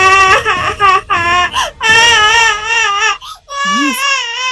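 A cartoon character who has been turned into a baby wails loudly and continuously in close, high-pitched sobbing cries with a few short breaks for breath.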